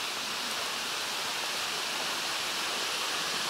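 A winter waterfall beside an icy path, heard as a steady, dense broadband rush of falling water that stays even and unbroken throughout, with no voices or other sounds.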